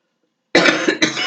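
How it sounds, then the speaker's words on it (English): A smoker's single harsh, loud cough close by after a moment of silence, with a short second burst right after. "You got to cough because you smoke"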